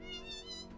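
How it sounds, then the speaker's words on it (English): A cat meows inside the video game Planescape: Torment, a single short, faint, tonal meow heard alone. "Meow, meow."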